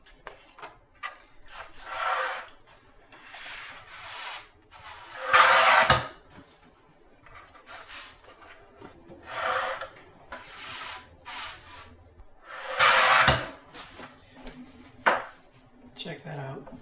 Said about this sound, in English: Roto trim, perfect cuts every time.